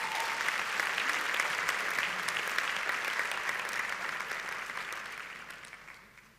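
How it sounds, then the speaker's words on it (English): A large crowd at a university graduation ceremony applauds steadily, dense clapping sustained for several seconds before gradually fading out. "Let's give them another round of applause."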